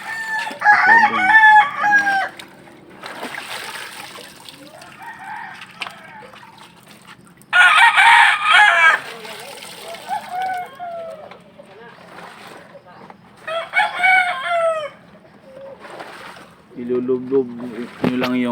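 A fighting rooster being bathed, with bursts of loud clucking and squawking between stretches of quieter handling noise and splashing, while a person talks throughout.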